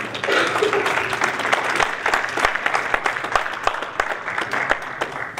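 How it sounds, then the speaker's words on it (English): An audience at a town board meeting applauds steadily, dense clapping filling the whole stretch at an even, moderate loudness. "So I just wanted to applaud Debbie Strong"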